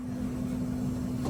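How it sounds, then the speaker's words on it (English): A Nikola Tre hydrogen fuel cell semi truck powering up its fuel cell, a steady mechanical hum with a strong constant low tone and broadband whir, close and even throughout. "So that sound is the fuel cell coming on?"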